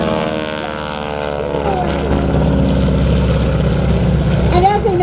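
A JAARS Helio Courier STOL airplane flying at the Warbirds Over Monroe airshow gives a steady, loud propeller-engine drone with a tonal hum throughout, likely under some background talk.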